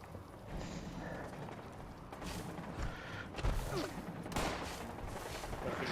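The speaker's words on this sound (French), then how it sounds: "En bas, ça tire avec un fusil à plasma, je pense." Plasma rifle gunfire in the video game Fallout 76, quiet bursts of shots and thumps in a busy game scene, with no clear voices over it.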